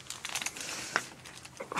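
Plastic wrapping from a survival gear kit crinkles and rustles close by in quick, uneven bursts, quiet and handled with no talk over it.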